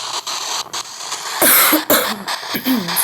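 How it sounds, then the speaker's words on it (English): Two or three harsh, close coughs burst out in quick succession from someone with a bit of a cold, loud against a steady background hum. "Sorry for the cough, guys."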